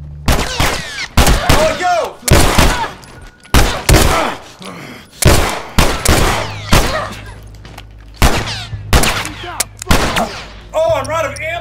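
Rapid gunfire from a weapon in The Last of Us Part II, loud bursts of shots repeating through the scene, with a man's excited exclamations in between.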